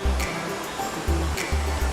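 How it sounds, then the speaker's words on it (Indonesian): Sarang Walet waterfall at Kembang Kuning in East Lombok rushes as a steady broadband roar, with a few low thumps and faint voices mixed in. "jangan lupa berkunjung ke air terjun Sarang Walet di Desa Wisata Kembang Kuning, Kecamatan Sikur, Lombok Timur"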